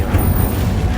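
An Incendio fire spell is cast in Hogwarts Legacy, a short, deep whooshing boom with low rumbling body, loud and close, lasting about a second.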